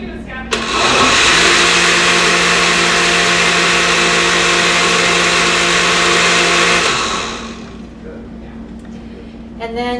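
A blender whirs loudly and steadily for about six seconds as it mixes a batter of flour and cheese, then cuts off and leaves a quieter room.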